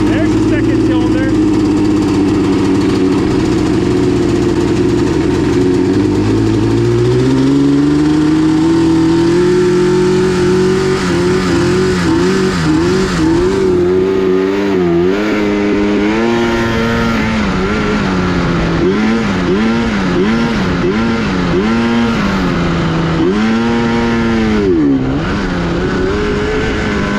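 A two-stroke jet ski engine, one of a pair left sitting for a few years, runs loud and close on half choke, its note rising and falling in repeated revs and surges throughout.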